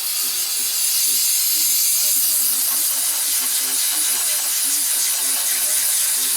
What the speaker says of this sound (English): And I'm going to soak this with some brake cleaner.